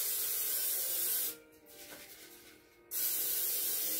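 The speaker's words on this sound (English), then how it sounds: "I just hit it with some cooking spray" Cooking spray hisses from a can in one steady burst of about a second and a half onto the crumb topping of a creamy tomato zucchini casserole, close up, with no talk.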